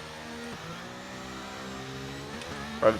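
An F1 race car from the F1 23 game holds a steady engine drone at the race start, with the pitch shifting a couple of times and a brief louder rev burst near the end.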